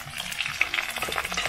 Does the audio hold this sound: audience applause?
no